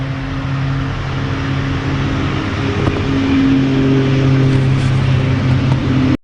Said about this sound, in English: Another car coming past.